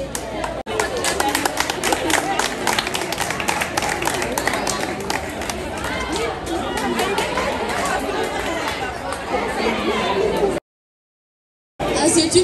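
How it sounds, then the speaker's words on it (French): An audience at a school cultural and sports day ceremony applauds for a certificate presentation, a dense, continuous wash of clapping mixed with crowd chatter that cuts off abruptly near the end. "je vous demande d'applaudir pour monsieur"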